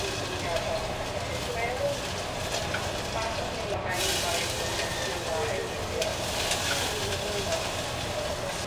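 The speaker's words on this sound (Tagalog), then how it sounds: "gigisa ko siya ngayon." Garlic and onion sizzle while being sautéed in a pan, a continuous crackling hiss that runs steadily throughout as people talk over it.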